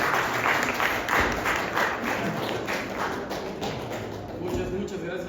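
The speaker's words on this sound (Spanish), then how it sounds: "Ahora sí que un aplauso por favor" An audience claps at a graphic-novel book presentation, a moderate round of applause with audible individual hand claps and some thumps, fading slightly toward the end.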